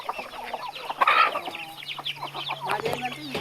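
Large-breed country chickens on a farm cluck repeatedly in a busy, overlapping flock chorus, with one louder squawk near the start and steady calls close by throughout.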